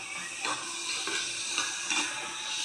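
Food frying in a pan while being stirred for a raw mango lentil dal, a continuous close sizzle with a few scraping stir strokes.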